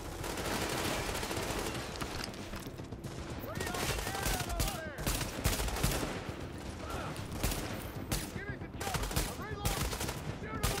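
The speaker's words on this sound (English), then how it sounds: "Quit shooting me." Rapid bursts of automatic gunfire are aimed at the player in The Division. The dense, loud volleys overlap almost without pause, and a voice speaks briefly amid the shooting.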